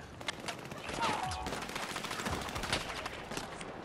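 Dense rapid gunfire rattles through a round of the video game Battlefield 6, with overlapping bursts and shots over a busy battlefield backdrop and a voice talking underneath.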